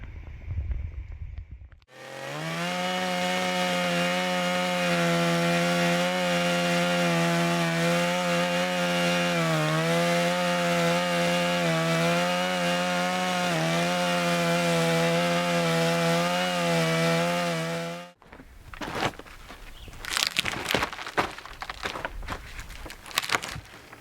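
A petrol chainsaw cuts into a tree stump with a loud, sustained whining drone that rises and dips under load, then cuts off, followed by clattering handling noises.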